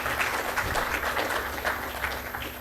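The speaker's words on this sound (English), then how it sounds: "Please join me in a round of applause for Dr. Santosh." An audience claps for a speaker at an institute colloquium, a dense, steady round of applause from a crowd that fades slightly toward the end.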